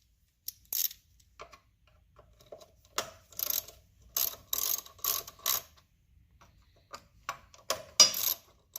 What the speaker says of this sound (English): we're going to take this cover off and see what the wiring looks like underneath.